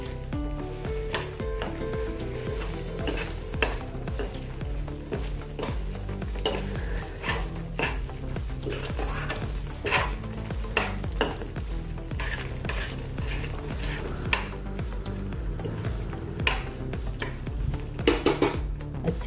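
Spiced gravy for paneer lababdar stirred in a pan, a low sizzle beneath repeated scraping and clinking of a spoon against metal, close and steady throughout with no talking.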